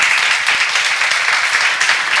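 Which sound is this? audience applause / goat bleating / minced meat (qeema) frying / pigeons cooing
audience applause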